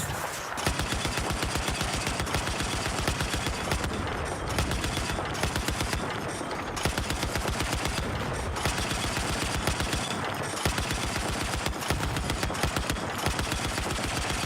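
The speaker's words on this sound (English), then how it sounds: "Looks like we have a sniper operating." Dense gunfire from the Battlefield video game, with rapid, continuous cracks and bursts that keep going loud and steady for the whole stretch and show no pauses.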